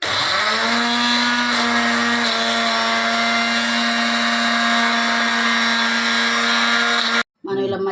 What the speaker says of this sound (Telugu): ఉల్లిపాయ కూడా మనం మిక్సీ పట్టేసుకోవాలండి.